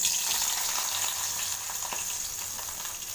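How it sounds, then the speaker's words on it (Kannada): Green chillies sizzle hard in hot oil for a tempering, a steady close frying hiss with faint stirring and no talk. "ಒಗ್ಗರಣೆ ರೆಡಿ ಮಾಡ್ಕೊಳ್ಳೋಣ ಒಗ್ಗರಣೆಗೆ ಫಸ್ಟ್ ಎಣ್ಣೆ"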